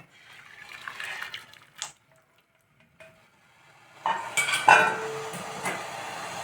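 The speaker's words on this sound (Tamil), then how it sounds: "இந்த வெள்ளை தண்ணியை வடிகட்டின வெள்ளை தண்ணியை இதில் விட்டுக்கலாம்" Strained jaggery water pours and splashes into a metal pan, with soft clinks of utensils and intermittent trickling, close up and moderately loud.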